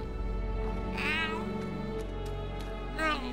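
A cat in the video game Fallout 76 lets out two clear meows, one near the start and another near the end, over a steady low background hum.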